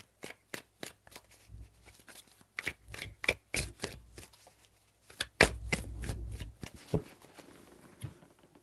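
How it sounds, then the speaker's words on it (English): Tarot cards shuffled by hand in a run of sharp, papery riffling bursts, close and fairly quiet, with a denser, rougher stretch partway through. "3 shuffles."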